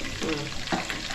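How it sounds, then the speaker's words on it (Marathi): Onion hits hot oil in a frying pan for pav bhaji, giving a brief, close, loud sizzle with faint background chatter. "कांदा टाकते."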